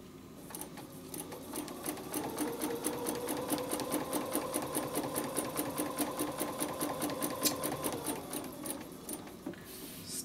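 A sewing machine stitches a spider web design with a fast, evenly pulsing needle rhythm that runs steadily and close for most of the stretch, easing off near the end.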